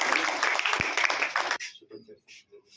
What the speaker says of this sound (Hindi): सर के लिए एक बार ताली बजाएंगे